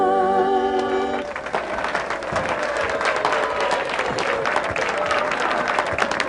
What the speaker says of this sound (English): thank you for your generous applause for our super soprano of song